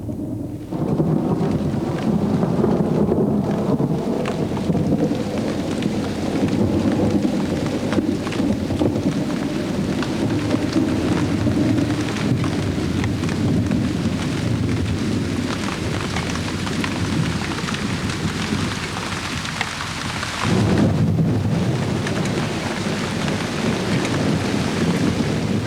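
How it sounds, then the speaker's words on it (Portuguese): Over the Venezuelan plains, a thunderstorm lets loose steady heavy rain while long rolling thunder rumbles continuously. The downpour briefly thins near the end before surging again. "Nas planícies crestadas da Venezuela, o horizonte ribomba finalmente com a promessa de chuva."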